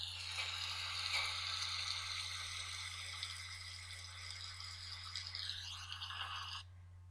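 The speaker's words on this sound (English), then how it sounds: "If you said you heard rain, you were right." Steady hissing patter of rain falls continuously, a dense even wash of sound that stops abruptly near the end.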